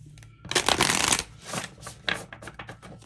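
Tarot cards being shuffled, a dense riffling burst of card noise followed by a few shorter, softer shuffles and flicks, close and alone with no talking.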